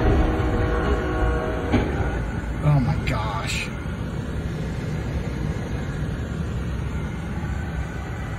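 A train roars loudly as it approaches a truck at a railroad crossing, a constant heavy rumble with a brief horn-like tone, while someone exclaims in alarm.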